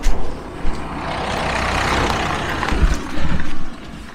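A postal delivery van drives past on a rural road in Suffolk, its engine rumble rising close and loud for several seconds and then fading, heard outdoors with no talking.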